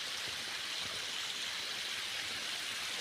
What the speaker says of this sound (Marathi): पायपानं सोडलंय पाणी